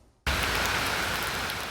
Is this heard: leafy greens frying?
no